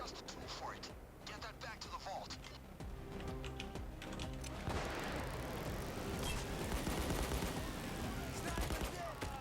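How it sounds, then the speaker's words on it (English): Gunfire in the heist shooter Payday 2, an enemy firing through a wall: steady crackling shots and booms over a dense, busy game mix, with keyboard clatter and a voice talking over it. "he's shooting at me through a wall"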